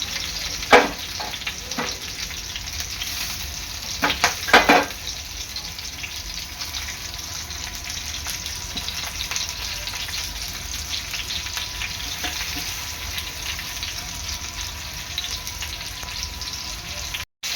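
Crabs frying in hot oil in a covered pan, giving a steady, even sizzling hiss throughout, broken early on by a few sharp clinks of a utensil.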